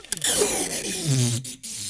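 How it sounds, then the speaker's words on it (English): Tape is torn from a roll in a long continuous rip, loud and close, with a couple of brief pauses near the end. "just ripping tape out of a tape roll."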